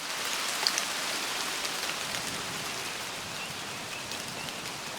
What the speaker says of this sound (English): Now the thunder sticks around, of course, a bit longer as the rain retreats.